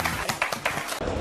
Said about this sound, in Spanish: ¡Aplausos! ¡Aplausos! ¡Aplausos!